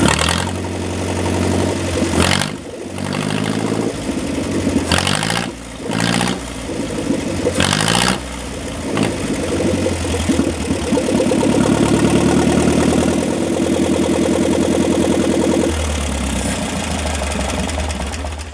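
A long-dormant John Deere 1010 crawler tractor engine cranks in several loud bursts, catches, then settles into a rough, steady running rumble with some rising revs, close and alone.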